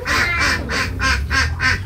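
Ducks quack loudly and close by in a steady rhythmic series of about six harsh, nasal calls evenly spaced with no pauses.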